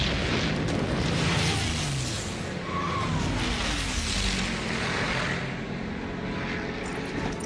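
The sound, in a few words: P-51 tank buster aircraft attack explosions, film excerpt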